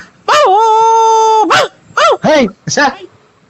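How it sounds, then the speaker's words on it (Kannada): A dog whines in a long drawn-out cry, then gives several short yelping barks close by. "ನಮ್ಮನೆ ತಗ ನಾಯಿ ಬಂದೈತ್ ನೋಡಿ ಸ್ವಾಮಿ"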